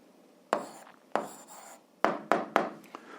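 Pen writing an answer by hand on paper: a handful of short, close scratchy strokes in uneven bursts, quiet and alone without speech.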